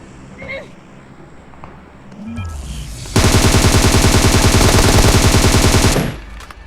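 Automatic gunfire in the PUBG video game bursts out as a long rapid rattle of loud, closely spaced shots after quieter in-game noises and faint voices.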